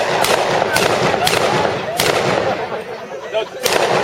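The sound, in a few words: mortar firing a single shot at war weekend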